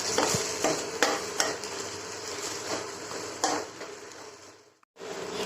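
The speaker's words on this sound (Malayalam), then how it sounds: "എന്നിട്ട് നന്നായിട്ടൊന്ന് മിക്സ് ചെയ്യുക" A spoon stirs sambar powder into a pot of raw mango sambar, making a steady scraping, swishing sound with a gentle sizzle underneath, punctuated by a few sharper clinks before a brief pause near the end.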